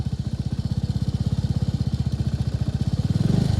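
A motorcycle engine already running after starting on one kick, a rapid, even thumping idle close by, steady throughout and swelling slightly with a brief rev at the end, with no talk.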